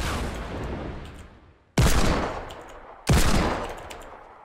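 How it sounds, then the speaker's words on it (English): Shotgun blasts from the Fortnite Battle Royale video game: two loud, close booming shots a little over a second apart, each decaying slowly, after a quieter stretch of lingering rumble. "I am using a shotgun right now because this range, actually."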